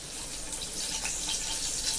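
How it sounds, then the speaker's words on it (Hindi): Curry leaves fry in hot oil in a kadai for crispy corn fry, a dense, steady hiss and crackle close up, with no voices. "तेल गरम हो गया, उस सबसे पहले हम कड़ी पत्ता डालेंगे इसमें"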